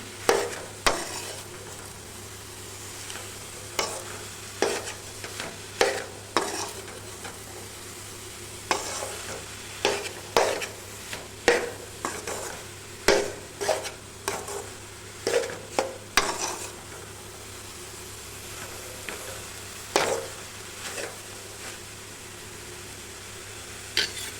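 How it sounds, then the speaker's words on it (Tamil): Goat blood fry with grated coconut being stirred and roasted in a pan: a low steady sizzle under repeated scraping and clacking spatula strokes in an irregular rhythm, close and fairly loud. "இந்த தேங்காய் இதோடு சேர்ந்து நல்லா வறுத்து வர அளவுக்கு கிளறி விட்டுறலாம்"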